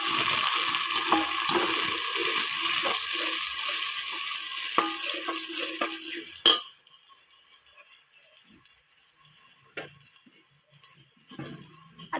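Onion and tomato fry in a pan for a Maharashtrian dish, a busy sizzle with stirring for about six seconds, then it drops off abruptly to quiet with only occasional faint clicks and taps.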